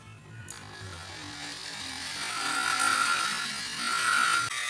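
A steady high-pitched whir of a small power drill lapping engine valves on a Viar three-wheeler, running continuously, with a rising grinding tone that swells twice, close by and moderately loud.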